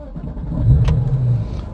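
A Porsche GT3 RS engine fires up and settles into a deep, loud, close rumble that lasts through the short stretch.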